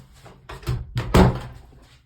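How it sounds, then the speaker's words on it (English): A door swings shut with a solid thunk and a brief rattle, close by and fairly loud, in a room with curtains. "when you close this door"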